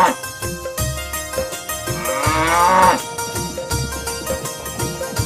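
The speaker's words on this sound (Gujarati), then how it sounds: "અરે સ્વામિનાથ, મેં તો ગાયોને નીર ચારો નાખી દીધો છે." A cow being fed fodder lets out one long, drawn-out moo that swells and then fades. It sits over background music with a rhythmic beat.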